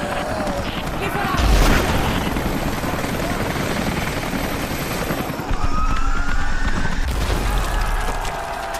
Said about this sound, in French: Ces hélicos seront bientôt à notre portée.